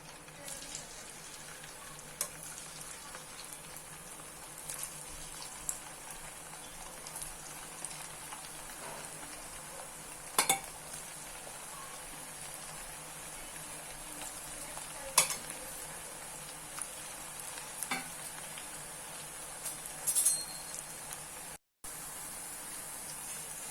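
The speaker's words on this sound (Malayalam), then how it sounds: "ഇനി ഇത് നമുക്ക് വറുത്തെടുക്കാം." Continuous bubbling sizzle of potato rings deep frying in oil, steady throughout, with occasional sharp clicks and pops from utensils.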